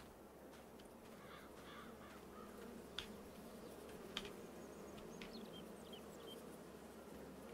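Bees buzzing in the Farming Simulator 22 farming game, a steady insect drone over a low ambient hum, with a couple of sharp faint clicks and some distant chirpy game sounds, no voices.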